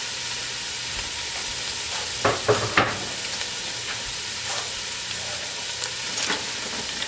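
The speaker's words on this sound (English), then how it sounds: "we're going to add in our chopped onion" Chopped yellow onion sizzling in a pan, a steady frying hiss throughout with a few brief stirring scrapes and pops, no talking.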